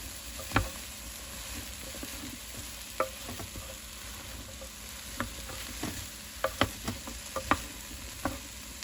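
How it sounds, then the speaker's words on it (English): Two chopped onions are stirred in a slow cooker: faint, scattered clinks and scrapes of a spoon against the pot over a quiet, hissy background. The taps grow a little busier toward the end, and nobody speaks. "Now I'm going to add in 2 chopped onions. And I'm going to give that a good stir as well."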